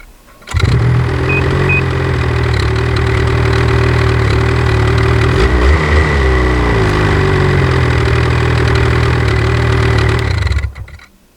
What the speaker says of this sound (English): You can kind of hear that the engine just turns over